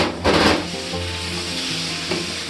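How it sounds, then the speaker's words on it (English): Lamb meat hits a hot pan for agnello con piselli e patate, with a loud burst of sizzle as it lands, then steady frying under scraping stirring sounds. "we're gonna throw in the meat"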